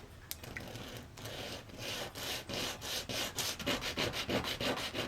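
A small model ship part is sanded by hand with a coarse abrasive on a flat model table, quick back-and-forth rasping strokes that speed into a rapid even rhythm, close and without talking.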